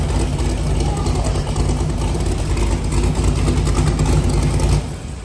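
An old fuel-injected vehicle engine runs close and loud, a dense steady rumble with slight revving surges before it eases off near the end, a voice talking faintly over it.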